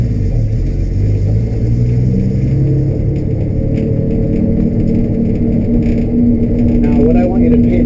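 A 1965 Chevelle engine running a modified Holley 600 cfm carburetor set up as a three-barrel, heard as a steady close rumble with shifting throttle and rev changes throughout, with talk intermittently over it.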